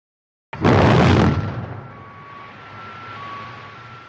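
A coal mine blast goes off with a sudden loud boom after a second of silence, roaring broadly for under a second before settling into a long rumbling decay with a faint steady tone.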